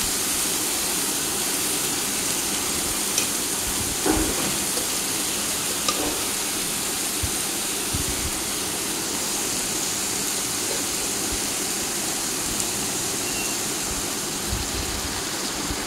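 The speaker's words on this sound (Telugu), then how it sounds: "నేను వేడి నీళ్ళు పోస్తున్నాను" Hot water pours steadily into a pot of soaked basmati rice, a continuous rushing splash with a few small clinks, close and loud, without talk.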